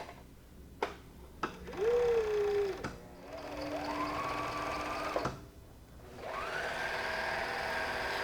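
A sewing machine stitching a Star Trek cosplay dress, running in a few separate short bursts with a whirring motor whine that rises and settles, clicks between runs and no talk.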